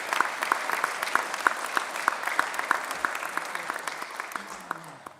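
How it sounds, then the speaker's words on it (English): Warm round of applause from an audience at an annual town council meeting, steady dense clapping that carries on throughout without a break. "I would like to invite you to join me in a round of applause"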